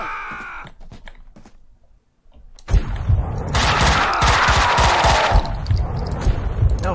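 Heavy gunfire in Max Payne 2 from 2003: sparse shots and clicks at first, a near-silent pause, then a loud sustained barrage of rapid automatic fire with shouting voices over it.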